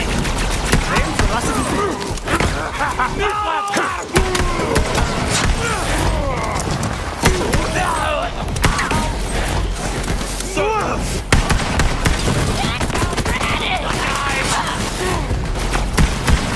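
Dense gunfire in the shooter Borderlands 3: loud, rapid bursts of shots and impacts follow each other almost without pause for the whole stretch, with a voice talking over the top.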